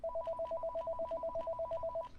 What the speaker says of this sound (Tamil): ஃபோன் அடிக்கிறாங்க.